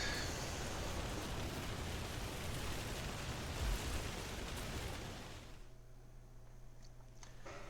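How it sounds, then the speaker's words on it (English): A loud waterfall in the video game Outriders roars as a steady, broadband rush for about five and a half seconds, then drops abruptly to a quieter low hum and faint ambience. "This waterfall is very loud."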